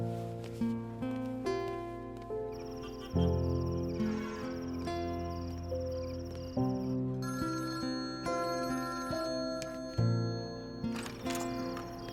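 A mobile phone rings with a melodic, repeating ringtone that plays steadily and loudly on its own, with no talking over it.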